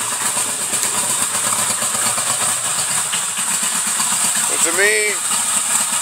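A restored classic Yamaha XS11 motorcycle idles steadily with a lumpy, loping rumble, close and loud throughout, while someone briefly speaks over it near the end.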